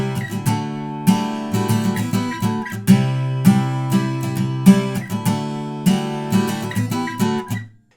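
Acoustic guitar strumming the verse chords of a song at a brisk tempo, steady rhythmic strokes with ringing chords and a final fade, played alone and close.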